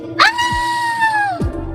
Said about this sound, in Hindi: जैसे ही ताला टूटता है, औरत के चीखने की आवाज सुनाई देती है।